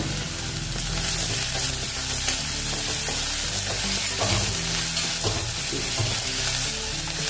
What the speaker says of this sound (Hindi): इसको थोड़ी देर भुनेंगे अदरक लहसुन के पेस्ट को